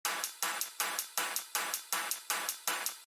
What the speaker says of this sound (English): After making the bass, I added some hi-hats and a distorted cymbal.